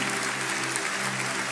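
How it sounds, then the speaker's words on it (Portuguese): A church congregation applauds, producing a dense, continuous clapping wash with a steady hum beneath it. "Você pode aplaudir ao Senhor"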